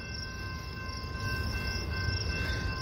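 A Metra commuter train approaches on the BNSF line at Downers Grove, Illinois, outbound from Chicago, a steady low rumble building slightly, with thin high-pitched tones and insect chirping layered over the scene.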